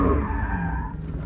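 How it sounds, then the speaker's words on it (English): Tires squeal loudly on a drifting muscle car, a sustained close skid with a wavering pitch that fades slightly toward the end, over a low engine rumble. "We drifting these bitches, bro."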